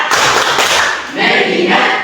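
A high-school class in Indonesia claps together in a rhythmic focus clap, two dense bursts of many hands separated by a short pause, loud and close in a classroom.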